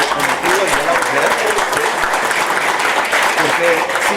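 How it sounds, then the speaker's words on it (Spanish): A seated crowd at a Women's Day tax reform briefing applauds loudly and continuously, a dense wash of clapping that holds steady throughout, with faint voices mixed in. "un aplauso con motivo del Día de la Mujer"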